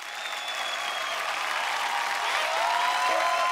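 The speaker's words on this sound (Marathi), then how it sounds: "काळूबाळूसाठी जोरदार टाळ्या झाल्या पाहिजेत." Audience applause for a comedy act on a Marathi television serial stage, a steady, dense clapping from a large crowd that holds at full level for the whole stretch, with a few faint whistles over it.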